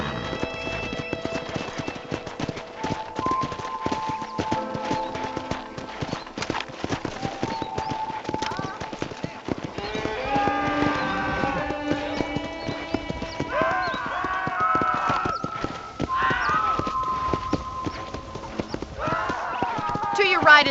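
Horse hooves clip-clopping in Red Dead Redemption, a steady rhythmic trot that continues throughout while people talk over it.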